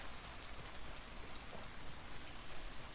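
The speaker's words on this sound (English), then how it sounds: "why the hell is it raining" Steady rainfall in the video game Project Zomboid, a continuous dense hiss of drops on surfaces with no breaks, quiet and even across the whole stretch.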